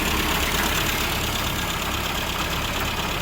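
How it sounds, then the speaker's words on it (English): A classic Mini engine idles steadily at just over 1,000 RPM, a dense, even running noise with no change in pitch and no voices. "I just wanted to show how stable the idle is as well as the mixture"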